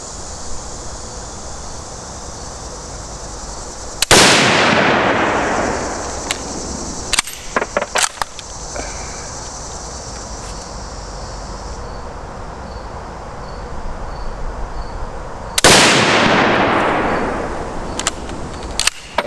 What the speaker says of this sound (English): after you shoot these 2, whether they go off or not, 2 more